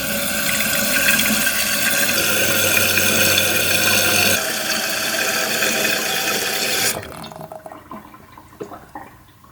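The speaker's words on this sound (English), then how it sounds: "so let's turn the water back on" Water rushes steadily through a household plumbing fixture after the supply valve is reopened, a loud, close hiss that shifts in tone partway through and then drops off sharply into faint trickles and drips.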